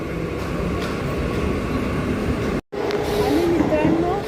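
A Goregaon slow Mumbai local train runs past at Virar station, a continuous rolling rumble with a high squeal of wheels late on and a brief dropout in the middle. Station bustle carries underneath.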